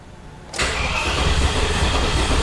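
A car engine with a Callaway Discovery swap cranks and then catches, a sudden loud, steady roar filling the space from about half a second onward, close up and without talk.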